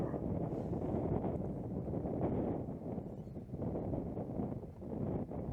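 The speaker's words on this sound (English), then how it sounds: "This wind is something else, as you can probably hear from the footage." Strong gale-force wind buffets an outdoor microphone at a disc golf course, a continuous loud roaring rumble that swells and dips without letup.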